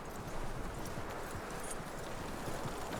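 Horse hooves clip-clop in the video game Red Dead Redemption 2, a steady run of soft thuds buried in a dense, constant wash of background noise, with no speech.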